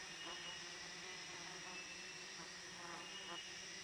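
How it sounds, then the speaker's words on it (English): Sweat bees visiting a flower in an Asian rainforest, a faint, steady insect buzz with soft pulsing wingbeats over a quiet forest background. "This flower attracts sweat bees."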